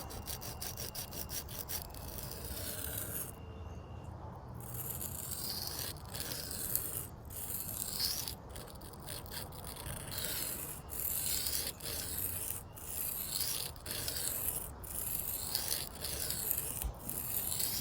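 An Ozark Trail knife blade scrapes repeatedly across a sharpening stone in steady, close rasping strokes, with no talk.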